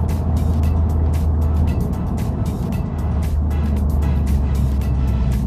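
A turbocharged Mazdaspeed 6 drives along with a steady engine hum and road rumble heard from inside the cabin while it makes a U-turn, with faint ticking clicks over the drone.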